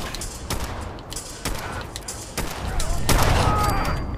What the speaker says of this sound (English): Well, now I guess I gotta start using guns.